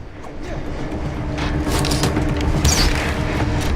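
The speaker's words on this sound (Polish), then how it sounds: "Ej, to wybucha." An explosion in the video game Far Cry 4 rolls out as a loud, sustained blast with rumbling booms and crackling debris that fills the whole stretch, with no voices over it.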